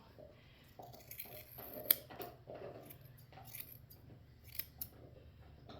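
Grooming scissors trim the top knot hair on a dog's head, giving several close, crisp snips spaced irregularly over a low room hum, with small handling rustles between cuts.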